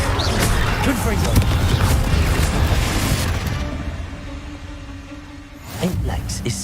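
Confringo blasting-spell explosions in the Hogwarts Legacy video game burst out loud and dense with booming, crackling combat noise that fades toward the end before a new impact, with a voice speaking over it.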